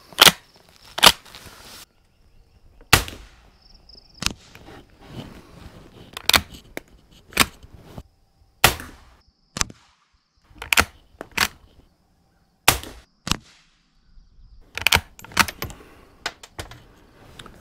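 A Winchester 1890 rifle chambered in .22 short fires CB rounds at 25 yards, each shot a sharp, dry crack, roughly a dozen spaced irregularly, with quiet action clicks and handling noise in between.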